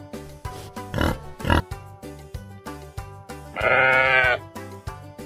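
A sheep bleats in a wavering cry over a rhythmic children's music backing, with a couple of short bleats earlier in the track.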